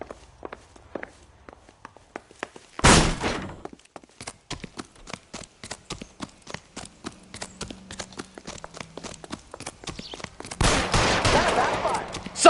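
Gunfire in the video game L.A. Noire: a loud burst early on and a heavier, sustained burst near the end, with quieter sharp clicks and thuds like footsteps scattered between.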